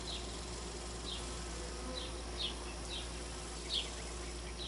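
Honeybees buzzing around a backyard birdbath as they come to drink, a steady faint outdoor hum with several brief, louder buzzes as individual bees fly close past.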